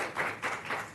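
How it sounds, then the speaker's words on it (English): Scattered applause from the audience at a South Haven, Michigan city council meeting, a brief faint burst of hand claps rising and falling in a few quick swells. "If we could hold the applause"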